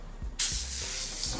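A short, sharp hiss of warmed liquid cocoa butter spraying out bursts and continues steadily, close and fairly loud, with a faint background hum.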